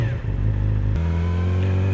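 A 2018 Yamaha R6 sport bike with shorty exhaust pipes pulls away with a loud, close engine burble, then the note shifts as it revs up and accelerates steadily.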